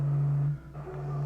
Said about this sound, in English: the sound is the NASA recording of the sound of the sun